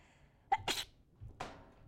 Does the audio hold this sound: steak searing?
no